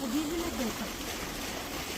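A steady rush of water flows from a motor-fed hose nozzle for car washing, close and continuous, with a voice heard briefly at the start.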